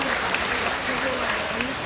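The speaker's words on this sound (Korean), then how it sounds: "감사의 박수를 보내주시기 바랍니다" A church audience claps in sustained, even applause, loud and dense throughout, with a voice speaking over the clapping.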